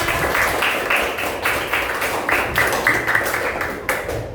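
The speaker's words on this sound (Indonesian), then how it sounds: "Oke, tepuk tangan semuanya." A classroom of students claps together in rhythmic unison, steady bursts of close, fairly loud hand claps lasting a few seconds.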